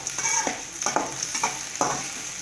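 Onions being sautéed in a pan alongside curry leaves, with a steady frying sizzle underneath and four distinct stirring scrapes spaced about half a second apart, close and clear, with no voices.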